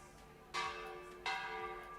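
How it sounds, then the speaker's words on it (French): Church bells ring out over the medieval city of Carcassonne, two loud bright strikes about three-quarters of a second apart, each leaving a long shimmering hum that fades beneath the next, with no voices. "Surpris d'entendre la musique des cloches, un des hommes de l'armée franque s'écrie alors"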